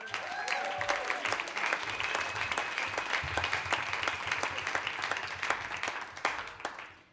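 An audience at a Moth StorySLAM storytelling event applauds to welcome a storyteller, dense steady clapping with a few cheers that fades out at the end.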